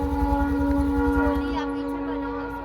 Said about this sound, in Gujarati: તો ટ્રેન આવી લાગે અમદાવાદથી,